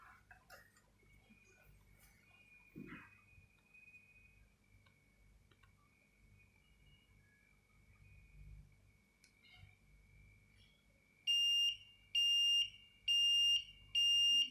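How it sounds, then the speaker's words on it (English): A humidity sensor's alert alarm goes off once humidity passes its set limit, sounding four loud, evenly spaced electronic beeps near the end, after a faint steady tone and some quiet handling noise. "There you go, the alarm rings."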